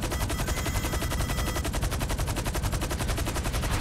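Rapid automatic gunfire in the video game GTA V, a dense, steady stream of shots that runs unbroken and fairly loud throughout.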